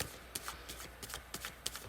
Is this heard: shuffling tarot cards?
yes